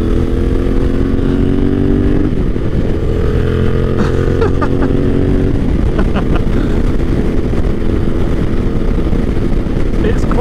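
A Yamaha T7 motorcycle is ridden on a road ride with sportsbikes, its engine droning loud and continuous with rising and falling revs, wind rushing over it.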